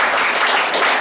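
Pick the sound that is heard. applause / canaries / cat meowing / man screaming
applause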